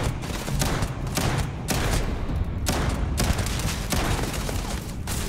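Shotgun combat in Starfield: a rapid run of heavy booming blasts, roughly one every half second, loud and close with a dense layer of continuous gunfire and impacts underneath.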